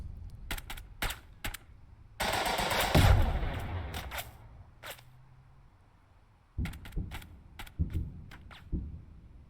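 Gunfire from a soldier shooting in the Burden of Command tactical video game: sharp, close single shots and short rapid bursts, with one heavier, longer blast in the middle and quieter gaps between them.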